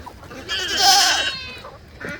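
Goats bleat on a farm, one loud, close, wavering call swelling and fading, followed by a softer, shorter bleat.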